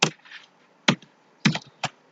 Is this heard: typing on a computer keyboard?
yes